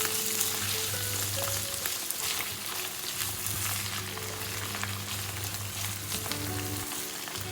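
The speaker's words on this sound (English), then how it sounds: "Now that it's sat and simmered for a minute and mixed with all the ingredients" Pesto pasta simmering in a pan, a steady soft sizzle and bubbling with intermittent scraping as it is stirred, heard close with no talking.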